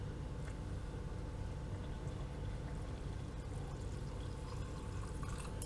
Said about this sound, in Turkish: Hemen üzerine oda sıcaklığındaki soğuk suyu ekliyoruz.